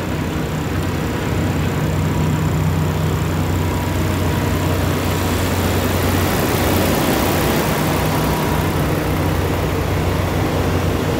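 A big diesel truck engine idles in a low, steady rumble that fills the whole stretch, with no talking.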